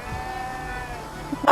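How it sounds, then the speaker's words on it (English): Sheep bleating from a field on the far side, a single wavering bleat held steady under quiet outdoor ambience, with a sharp louder burst at the very end. "That was a little comment from some sheep"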